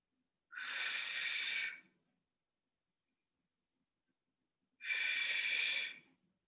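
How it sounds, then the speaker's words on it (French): Two long, forceful exhaled breaths during a seniors' gym exercise, close and breathy, separated by silence. "On passe bien la respiration. On souffle."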